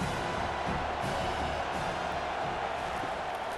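Stadium crowd roaring in EA Sports College Football 25 during a Maryland vs Penn State game, a steady distant wash of cheering with no clear peaks.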